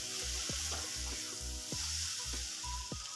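Shrimp and taro frying in a pan, a steady bright sizzle with rhythmic scraping stirs repeating about every half second, close and continuous.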